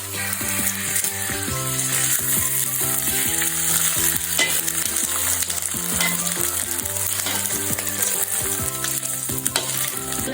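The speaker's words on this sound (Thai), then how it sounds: "ไข่สุกแล้วพลิกกลับด้านได้เลยครับ" An egg fries in a pan with a loud, continuous sizzle, and a utensil scrapes and shifts the food along the way, steady throughout with no voices.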